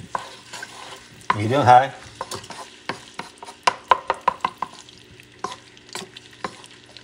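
Onions frying in a pot over medium-high heat for a wedding soup sofrito, with a loud burst of stirring sizzle early on, then a run of sharp clacks of a spoon against the pot over a low steady fry; one brief spoken phrase.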